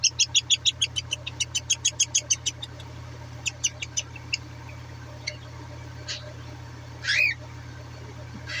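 Two-week-old cockatiel chicks being hand-fed give rapid, high-pitched begging chirps in a fast pulsing run, then scattered, fainter peeps over a steady low hum, with one short squawk near the end.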